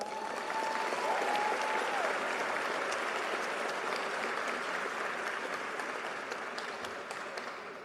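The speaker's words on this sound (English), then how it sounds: "Let's give Mr. Lowen a round of applause." Steady applause from an audience at a 2021 high school graduation ceremony, a broad wash of clapping that holds for several seconds and fades slightly toward the end.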